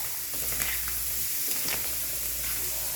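Dinuguan ingredients sauté in a pan with a steady broadband sizzle and hiss, close and continuous, with a few brief spits and crackles rising above it.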